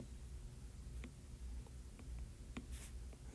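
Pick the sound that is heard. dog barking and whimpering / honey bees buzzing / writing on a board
writing on a board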